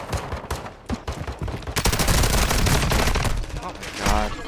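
Bursts of automatic gunfire in a shooter video game crackle in rapid volleys, loud and dense in the middle, with players talking over the action.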